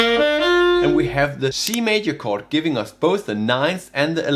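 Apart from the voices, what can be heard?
No distinct noise like a dog, phone or traffic.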